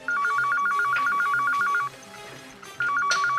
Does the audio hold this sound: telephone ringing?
yes